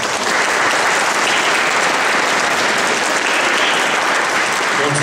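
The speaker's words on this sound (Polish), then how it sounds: "Tym większe brawo." An audience at a patriotic song contest in Bolesław claps steadily and loudly, a dense, even wash of applause lasting the whole few seconds with no voices on top.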